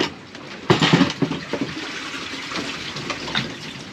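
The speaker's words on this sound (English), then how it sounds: "We just got a massive amount of water." A wave of seawater suddenly gushes into a sailboat's cockpit locker on an ocean passage toward American Samoa, a loud splashing rush that settles into continuous sloshing and trickling.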